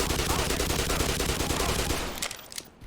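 A grenade explosion mixed with gunfire in Black Mesa: a dense, loud, continuous roar of blasts and shots that fades away near the end.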